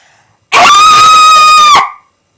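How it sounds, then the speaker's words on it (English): A single long, loud scream from a man, sustained at an even pitch for over a second before cutting off sharply, alone in silence. "they could hear the scream of a man"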